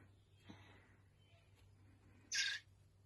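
Young blackbird being rescued, giving a brief, loud, high call near the end, with a faint softer call earlier over a quiet background hum.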